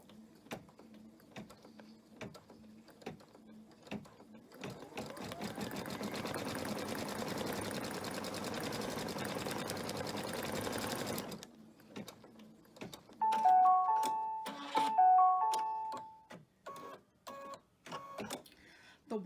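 A home embroidery sewing machine stitching an applique placement stitch for a fabric flag banner, a dense continuous mechanical whir for several seconds, then sparse clicks and a few electronic beeps, with brief talk before and after.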